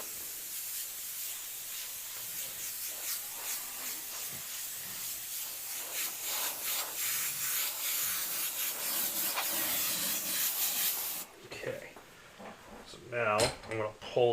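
A custom Micron airbrush sprays paint in a steady fine hiss for most of the stretch, broken by brief pauses, then drops away to quieter handling noises near the end.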